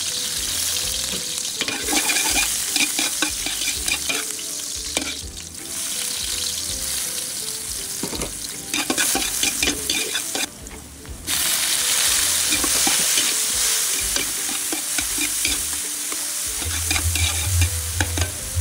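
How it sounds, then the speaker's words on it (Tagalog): Aromatics sizzle and fry in hot cooking oil in a pan, with a spatula stirring and scraping repeatedly throughout, the loud sizzle dipping briefly now and then as ingredients are moved around. "Igisa na natin ang mga aromatics."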